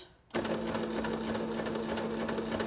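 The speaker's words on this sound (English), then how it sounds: "stitch about 10 stitches" A Singer SewMate 5400 sewing machine starts up and stitches continuously, giving a steady, rapid mechanical whir with a constant hum. It is close and moderately quiet, with no talking.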